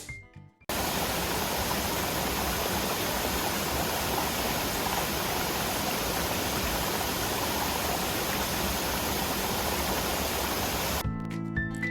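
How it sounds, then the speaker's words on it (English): Salto de Socoa, a waterfall in the Dominican Republic near Santo Domingo, pours into a natural pool. The water roars as a loud, even, broadband rush that starts abruptly and holds steady for about ten seconds before cutting off. "Salto de Socoa is one of many impressive waterfalls in the DR"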